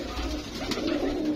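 Rare golden pigeons coo softly and close by in one short, low, rolling call, with nothing else heard around it.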